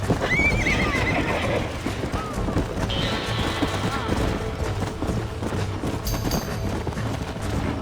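A stallion in the Red Dead Redemption video game whinnies loudly and gallops with rapid, clattering hoofbeats, with more neighs and chaotic crashes amid the chase, all under a busy, dense mix of game sound.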